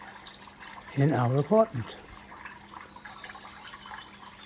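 A small decorative waterfall runs indoors in an apartment, giving a soft, steady trickle in the background. A person speaks briefly over it.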